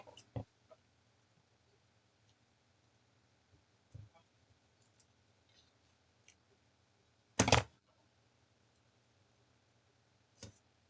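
Scissors cut small craft pieces in half, giving a few quiet, isolated snips spaced seconds apart in an otherwise hushed room.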